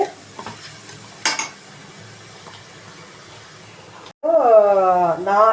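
Tomato bath masala frying and being stirred in a pan, a steady low sizzle with a couple of sharp scrapes early on, then a voice speaking over the cooking toward the end.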